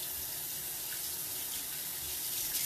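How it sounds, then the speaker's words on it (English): Tap water runs steadily into a kitchen sink for a hand rinse between batches of eggplant meatballs, a continuous broadband splashing hiss that stays even and close throughout, with no talking. "I'm gonna give my hands a quick rinse."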